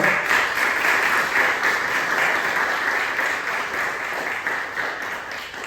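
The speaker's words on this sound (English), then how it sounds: "Please, a big round of applause for Matt Lowe." An audience applauds a speaker at a talk, a dense, steady wash of many hands clapping for several seconds that slowly tapers off.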